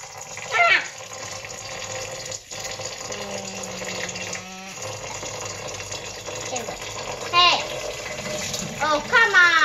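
Filtered water pours and splashes into a pot of rice being washed, a steady running gush close by, while someone talks over it.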